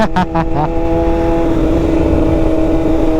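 Inline-four big bike motorcycle engine revving close by, with a few sharp throttle blips at the start that settle into a steady, loud idle-like drone.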